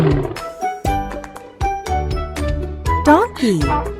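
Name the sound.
lion roaring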